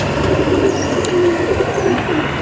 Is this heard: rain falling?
no